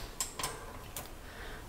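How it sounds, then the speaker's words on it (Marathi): Igniter on a home gas stove clicking as the burner is switched on under a kadhai: a few sharp, close ticks spaced a fraction of a second apart, with no one talking. "आता मी गॅसवर कढई ठेवलेली आहे, गॅस चालू करते आणि मध्यमच ठेवते गॅस।"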